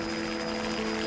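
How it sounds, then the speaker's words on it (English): Helicopter flying overhead near survivors on a mountain after a plane crash, a steady loud rotor drone with a throbbing beat, continuous through the moment with no talk. "Her prayers are answered when she hears a helicopter."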